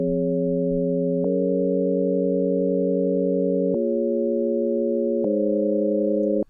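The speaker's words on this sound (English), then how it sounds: "Give us a sine wave. Sine waves are very soft sounds." Pure, soft sine-wave tones from the Sylenth1 software synth, sustained chord notes shifting pitch three times in a steady, clean drone with sharp clicks at each change.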